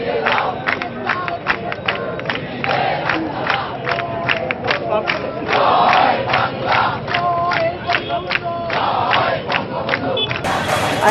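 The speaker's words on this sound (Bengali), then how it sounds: "বিভিন্ন ধরনের হাতে ফেস্টুন ব্যানার নিয়ে তারা স্লোগান দিচ্ছে" Student protesters gather before a vice-chancellor's residence, chanting slogans in rhythmic bursts while holding banners and festoons; a dense crowd roars steadily and loudly throughout, with repeated shouted syllables rising over the mass of voices.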